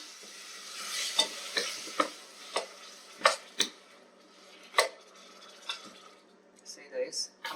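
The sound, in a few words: tomato frying and stirred in a pan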